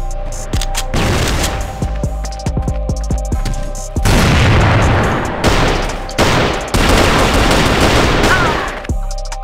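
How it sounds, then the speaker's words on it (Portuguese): A flash bomb grenade detonates amid rapid gunfire in CrossFire, loud repeated bursts of automatic shots and heavy blasts stacked over a thick ringing mechanical drone, close and relentless. "Flash bomb."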